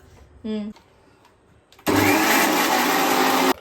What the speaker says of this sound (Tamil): இப்போ வந்து நம்ம இது கிர்கிர் பண்ணிடலாம். நல்லா பேஸ்ட் மாதிரி அரைக்கணும்